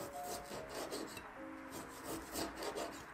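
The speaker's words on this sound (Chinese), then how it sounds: "准备一块瘦肉，把瘦肉切成丝备用。" A knife draws repeatedly through lean pork, slicing it into thin strips with soft, rhythmic rasping strokes against a cutting board, quiet and close, with no voices.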